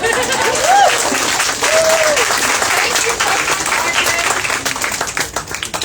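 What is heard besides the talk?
audience clapping at poetry event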